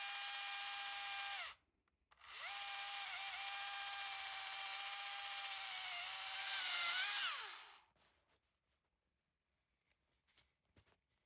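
A power saw cuts wood at a house by a river on a cold night, giving a loud, high, steady whine. The whine cuts out briefly, resumes, dips in pitch under load, then stops, leaving faint knocks.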